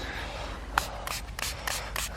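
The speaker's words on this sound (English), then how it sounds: "Spray it again" A handheld spray bottle misting a freshly found coin with several short, sharp hissing bursts in quick succession, close up against a quiet outdoor background.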